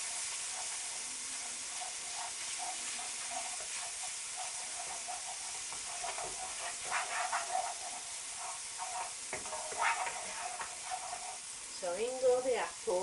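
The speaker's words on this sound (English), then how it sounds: "we're going to blend these gently together with a wooden spoon" A pancake batter with cinnamon and apples is blended with a wooden spoon, giving soft wet swishing and scraping strokes over a faint hiss, growing more rhythmic toward the end.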